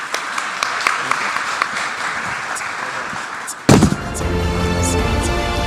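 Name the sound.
audience applause at a conference opening ceremony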